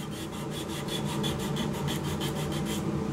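Heavy-grit sandpaper rubs rhythmically against a wooden turned hollow globe Christmas ornament, a steady rasping with regular strokes about every quarter second, close and loud with no talk.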